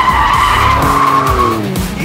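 A BMW M3 Competition drifts with a loud, sustained tire skid squealing steadily for about two seconds, engine roar underneath, close and continuous.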